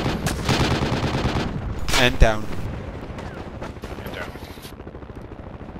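Small arms gunfire in the tactical shooter game Project Reality, with loud rapid bursts and single shots close by, a heavy blast midway, and a player talking over the firing.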